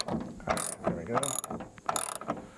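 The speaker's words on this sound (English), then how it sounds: "I just got to tighten this thing down now" A ratchet tightens the nut on a manual side mirror mount of a 1985 Volkswagen Westfalia Vanagon, giving bursts of rapid close clicking in several strokes with brief pauses between them.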